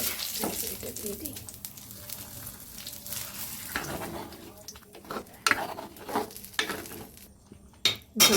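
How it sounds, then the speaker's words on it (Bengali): Chopped garlic fries in oil in a pan, giving a moderate sizzle broken by the clinks and scrapes of stirring with a utensil against the pan. "রসুন কুচি একটু লাল করে ভেজে নেব আমি"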